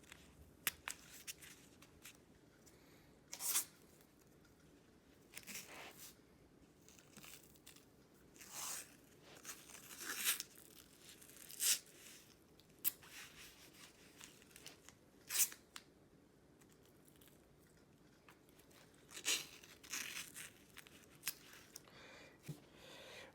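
Athletic tape being torn from the roll and applied around an ankle, with sharp intermittent ripping bursts separated by quiet pauses, close and fairly faint.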